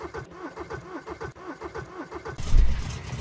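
Car engine cranking and catching in the video game Junkyard Truck, a low rumble that swells loudly near the end after a stretch of rattling mechanical noise.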